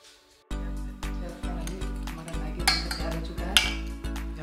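Spoons clink against hostel Maggi noodles in a few sharp, bright taps, mostly near 2.7 and 3.6 seconds, over a steady, pulsing background of music.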